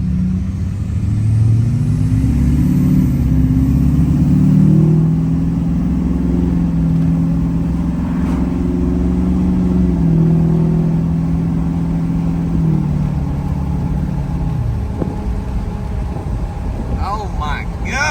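A Duramax diesel in a GMT-800 truck runs and revs: a deep, rumbling engine drone that swells and holds for around thirteen seconds before easing off, close and loud, with a voice speaking over it.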